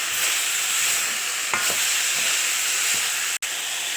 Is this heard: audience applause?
no